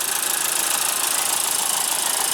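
A 2015 Honda Fit's 1.5 L four-cylinder engine runs steadily, a smooth, even hum with a faint hiss and no talking over it.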